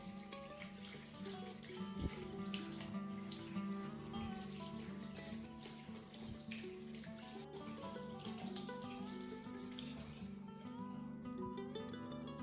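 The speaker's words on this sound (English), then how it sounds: "Rinse again with clean water." A hairbrush is rinsed under clean tap water, a steady running flow heard faintly beneath a continuous musical backing.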